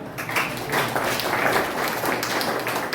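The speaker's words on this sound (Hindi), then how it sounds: "ताली बजाकर उनका स्वागत कीजिएगा।" An audience claps to welcome two speakers at a college National Technology Day event, a broad, continuous wash of many hands filling the hall for a few seconds without a break.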